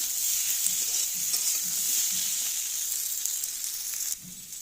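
Sliced onion fries in a pan with already fried potatoes for a chilli soybean dish, giving a steady, bright sizzle with soft stirring thumps and a quieter moment near the end.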